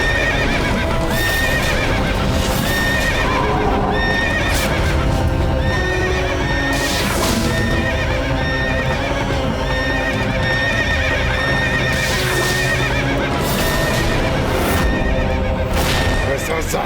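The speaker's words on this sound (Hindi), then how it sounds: "ऐसा साहिल घोड़ा है ये," Horses neigh repeatedly over a constant clatter of hooves in a historical drama about Maharana Pratap, with loud whinnies rising above the dense, steady clip-clop and voices speaking in places.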